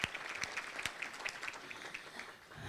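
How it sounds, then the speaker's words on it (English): Audience at an economic summit applauds steadily, a dense wash of clapping hands with a few sharper near claps standing out over the sustained roar. "A big, big round of applause."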